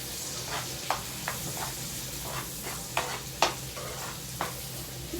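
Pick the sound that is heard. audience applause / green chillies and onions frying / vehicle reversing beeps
green chillies and onions frying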